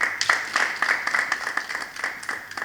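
Audience applause at an anti-corruption ranking event in Rwanda: steady, moderately loud clapping from a crowd lasting throughout, slightly uneven with scattered individual claps standing out.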